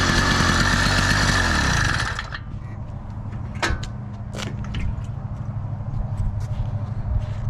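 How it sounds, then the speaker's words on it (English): A Cranbrook motorized bike's small engine runs loudly with a steady rough drone, then drops to a lower idle after about two seconds, with a few sharp metallic clicks and clanks over the running engine. "That's how you operate your motorized bike."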